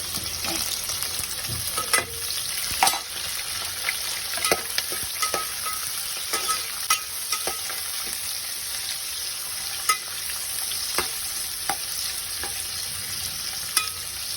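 Chopped onions, green chillies and curry leaves fry in oil for Andhra-style chicken pulao, a steady close sizzle broken by repeated scraping stirs and ladle taps against the pan, with no talking.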